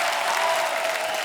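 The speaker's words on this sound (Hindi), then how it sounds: "जोरदार तालियां." Loud, dense applause from the studio audience of a Hindi comedy talk show, a continuous wash of clapping with no gaps.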